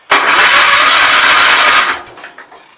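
A 1980 Wheel Horse C145 garden tractor engine, fed through its fuel pump from a gear oil jug, cranks and roars to life loudly and close, running steadily for almost two seconds before cutting out and fading.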